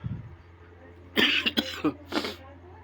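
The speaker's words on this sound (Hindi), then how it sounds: "अरे यार खांसी ज़्यादा है" A short series of three or four raspy coughs in quick succession, fairly close, over a quiet background hum.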